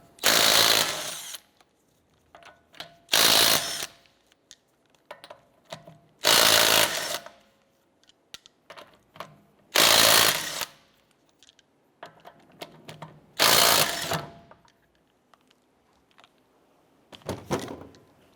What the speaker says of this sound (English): let's go ahead and remove our lug nuts